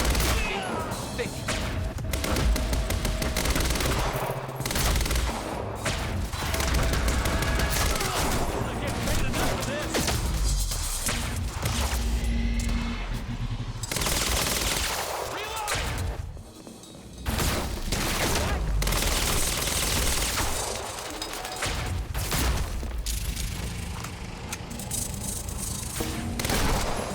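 Gunfire in the video game Quantum Break comes in dense, loud bursts and volleys throughout a firefight, with booms and thuds between shots and game voices speaking over it.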